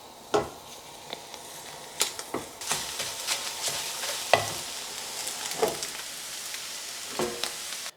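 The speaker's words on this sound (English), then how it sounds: "I'll just whisk it up and then chuck it in a pan and scramble it" Whisked egg whites sizzle in a pan while being stirred and scrambled, with frequent scraping and tapping of a utensil against the pan over a low frying hiss.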